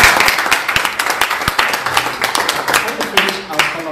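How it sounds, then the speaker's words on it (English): Scattered audience clapping after a lecture at the University of Queensland, Australia, with claps coming thinly and unevenly across the room for a few seconds, and some voices murmuring underneath. "Can we give a round of applause to you?"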